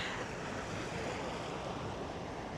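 Wind blowing outdoors during a dance session, a steady, faint broadband rush with rumbling gusts on the microphone, continuous and with no voices.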